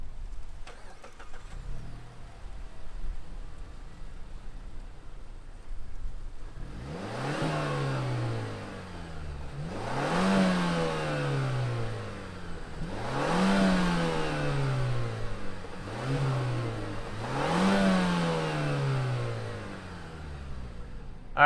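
A 2021 Mazda 3 Turbo starts with a short crank and settles into a low idle, then gets four or five sharp revs that each climb and fall back, heard close with no voices.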